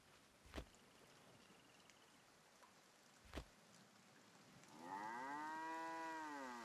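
A cow in the video game Force of Nature 2 gives one sustained low moo near the end, heard over steady rain-like background noise with a couple of faint thuds before it.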